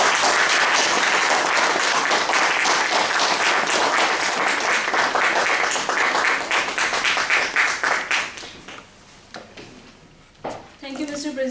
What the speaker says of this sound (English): please give a big round of applause for TA Modi